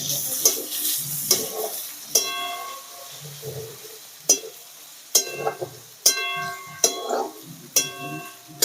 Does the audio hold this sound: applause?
no